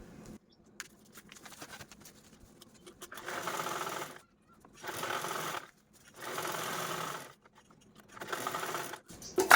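A sewing machine stitches fabric for a lunch bag in bursts, several runs of rapid needle chatter of a second or two each, separated by short pauses with quiet handling noise.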